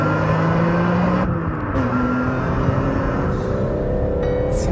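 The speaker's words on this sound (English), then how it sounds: "The thing I love, though, about this engine is that sound, that metallic, raspy sound." A BMW M3 engine revs with a metallic, raspy tone, holding steady and climbing in pitch, loud and close with no talking.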